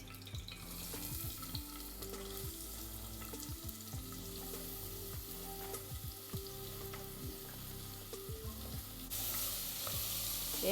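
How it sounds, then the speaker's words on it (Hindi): Onions frying golden brown in hot oil with bay leaf and cardamom, a faint continuous sizzle under a steady musical hum, the hiss swelling slightly near the end. "अभी फ्राई हो रहा है प्याज और गोल्डन ब्राउन"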